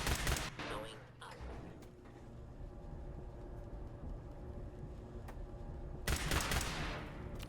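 Video game gunfire from Fallout 4, with sharp bursts of shots at the start and again near the end around a quieter, steady stretch of rumbling background noise.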